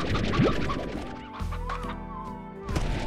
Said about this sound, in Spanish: Y gallinas.